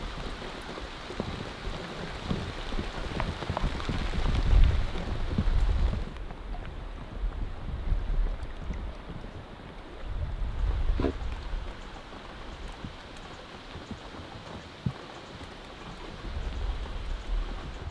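Steady rain falls outdoors in a wilderness setting, a dense continuous patter with occasional heavier drops and faint rumbling gusts, heard alone without any voices.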